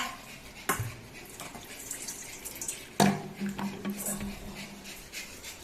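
Water runs and splashes into a bowl being filled for a pet to drink, a close trickling flow with a couple of sharp clinks, while someone talks over it.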